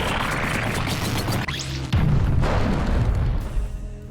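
Explosion battle effect from the RPG Developer Bakin game engine, a loud broadband blast with crashing impacts and a second heavy boom partway through, rumbling out and fading at the end.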